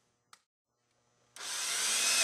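A sharp click, a short pause, then a power drill whirs up to a steady, loud high-pitched spin, drilling a 3/8-inch hole, that holds to the end.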